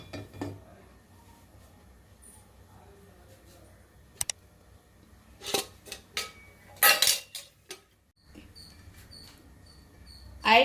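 A metal pan is set onto the stove while making brinjal masala fry, with scattered clanks and clicks of cookware at close range, a couple of sharp metallic knocks amid quiet kitchen handling.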